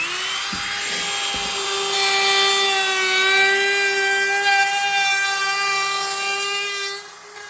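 Router trimming the edge of a wooden stool top, a loud, steady high-pitched whine with a couple of brief knocks at the start, cutting continuously before the motor starts to wind down; no speech.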